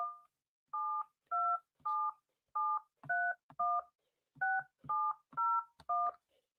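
Telephone keypad tones dialed to connect a phone conference line, eleven clear two-pitch beeps in an uneven rhythm with short gaps, close and distinct, with no talking.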